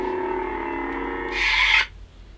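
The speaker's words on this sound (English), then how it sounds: "I want to have to sand down these blades so it'll be easier to fit" Someone sands down the blade parts of a custom Korbanth MPP 2.5 Proffie Darth Vader lightsaber with a steady rasping rub. A brief harsher scrape follows, then the sound cuts off.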